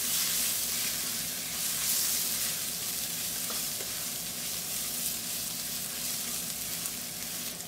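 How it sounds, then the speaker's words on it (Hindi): Grated ginger fries in a pan for samosa filling, producing a dense, even hiss of sizzling oil that holds steady throughout at moderate loudness, with no talking. "अदरक को उस तक तक कुक करेंगे तब तक इसमें से अच्छे से खुशबू ना आ जाए, तब तक इसे फ्राई करते रहेंगे"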